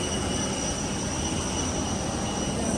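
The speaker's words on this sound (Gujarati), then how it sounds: "અને આ છે વિમાન, ઇન્ડિગોનું વિમાન." Steady, loud roar of an IndiGo airliner's engines at an airport, a continuous broadband rush with high whining tones held throughout and no voices.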